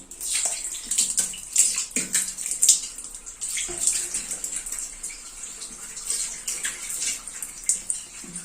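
Tap water runs steadily into a basin in a village washroom while someone washes up, a continuous hiss broken by irregular splashes and clatter, close and fairly loud, with no talking.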